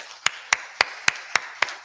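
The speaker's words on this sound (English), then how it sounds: "should we give them a big applause?" A small audience claps for an event team in sparse, separate claps, about six sharp hits roughly a quarter second apart, close and fairly quiet, with no voices.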